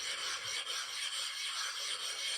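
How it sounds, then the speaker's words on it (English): Two soaked sharpening stones rubbed together in a continuous, close, gritty scraping hiss that stays steady with slight back-and-forth swells. "we're gonna soak them and we're gonna rub the stones"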